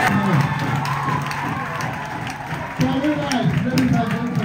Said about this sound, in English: Let's keep clapping and celebrating.